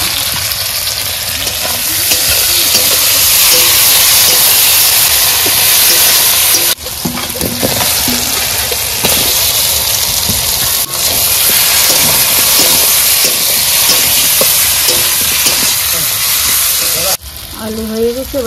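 Garlic, green chili, onion, bay leaf and tomato fry and get stirred in a clay handi pot for Bengali-style mutton, a steady loud sizzle with scraping stirs throughout, briefly interrupted twice.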